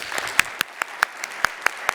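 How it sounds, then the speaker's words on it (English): Sparse, slow clapping from a small audience at an education conference open-mic session, with about ten separate sharp claps spaced evenly over a couple of seconds. "Applause."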